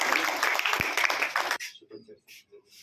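Children at a school program clap for a guest speaker in a dense burst of applause lasting about a second and a half. It stops abruptly, leaving quiet murmurs.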